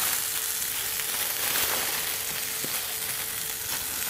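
Norwegian cod fillet searing skin side down in a hot pan gives a steady close sizzle, a continuous hiss with faint crackles throughout and no talking.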